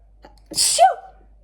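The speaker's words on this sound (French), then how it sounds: "Oh, je dois éternuer." A single sneeze bursts out close by, a sharp breathy blast followed by a short voiced tail, then quiet.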